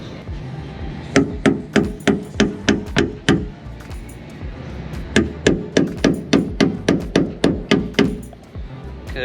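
A hammer taps a metal bracket tab flat while a dual battery setup is fitted to a next-gen Ford Ranger, giving a long run of sharp, evenly spaced metallic strikes with a brief pause partway through.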